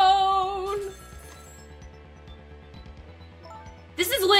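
A telephone rings in the video game Ghost Trick, a bright electronic trill that sounds at the start and returns near the end over a quiet synthesized musical background.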